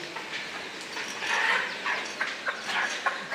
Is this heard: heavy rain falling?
no